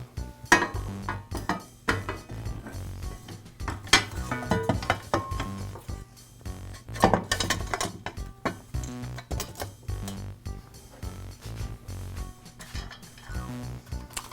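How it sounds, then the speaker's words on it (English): Metal clanks, clicks and ratcheting as a tine guard and motor are refitted to a Powermate garden cultivator transmission and bolted down, irregular close-up knocks and scrapes separated by short pauses. "Now I can reinstall the tine guard, align it and the motor up to the transmission, and secure them both with the bolts"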